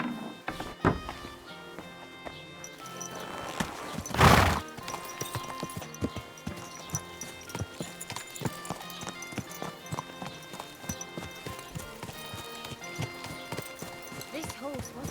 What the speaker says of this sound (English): This horse wasn't cheap, that's for sure.